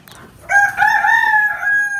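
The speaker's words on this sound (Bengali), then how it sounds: "তো এই হচ্ছে ভিতরের মুরগি।" Chickens inside a poultry house on a hot day give one drawn-out, crow-like call that rises after a brief quiet start and holds close and clear for over a second, with no talking.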